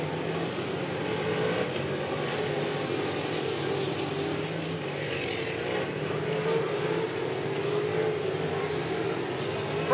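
Race cars roar around a figure-eight track at the Indianapolis Speedrome during a 90-minute outlaw race, a dense, steady wash of engines with rising and falling revs throughout and no clear gaps.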